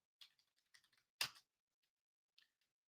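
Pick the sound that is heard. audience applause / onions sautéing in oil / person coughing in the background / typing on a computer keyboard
typing on a computer keyboard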